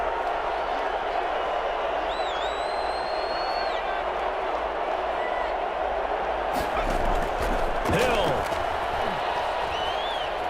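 Stadium crowd noise in a Madden NFL video game ahead of a big third down: a steady, dense roar of the crowd that swells slightly partway through, with a commentator's voice talking over it.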